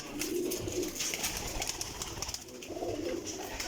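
Champion pigeons coo in soft, repeated low throaty phrases close by, with a light airy background rustle and no talk.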